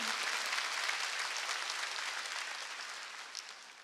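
Applause from a church congregation at a Korean Sunday worship service, a soft, steady wash of many hands clapping, fairly distant and gradually fading toward the end.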